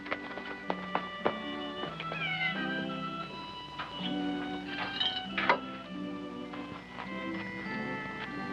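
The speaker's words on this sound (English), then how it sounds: "Petting a mangy old stray cat." Mangy old stray cat meowing repeatedly, a string of close, fairly quiet cries with short gaps and a few longer drawn-out mews, no talking.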